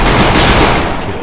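Rapid automatic gunfire in the video game Free Fire, a dense, loud burst of shots packed together over about a second, with no talk over it.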